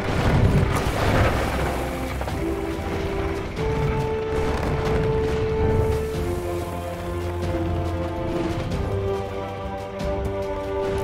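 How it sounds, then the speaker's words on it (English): Houses collapsing during an attack in the city-building game Kingdoms & Castles, heavy rumbling booms and crashes running steadily throughout, mixed with sustained tonal game music and no talking. "Look at that, they're destroying the houses."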